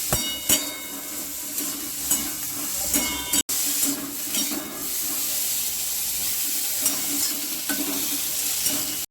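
Eggplant seasoned with turmeric and salt fries in a hot pan, a steady close sizzle and hiss running throughout, broken by occasional clinks and scrapes of stirring.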